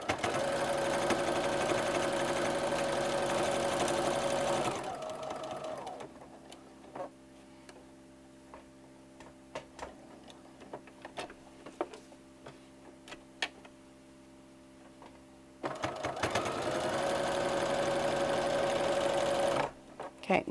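A sewing machine stitches a pull-through dish towel topper, with a loud steady run at the start and end and a quiet stretch of soft ticks and handling noises between them.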